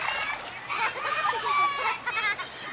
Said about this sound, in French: Charlotte fait une énorme bombe dans l'eau.